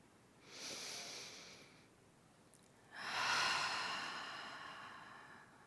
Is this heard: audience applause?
no